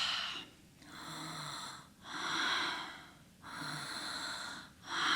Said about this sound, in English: see if you can find a bit of a snore. Think of it as that Darth Vader.